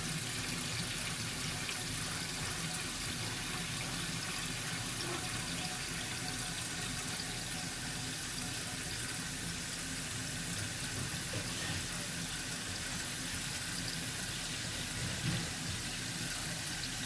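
A kitchen faucet keeps pouring into a large pot being filled to make broth, giving a long, even, fairly quiet stream of splashing water with no talking.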